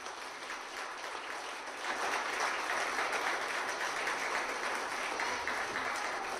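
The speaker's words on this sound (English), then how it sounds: "big round of applause for Cynthia for putting this together" An audience applauds after a political speech, and the steady, dense clapping swells a little partway through and then holds at a full level without pause.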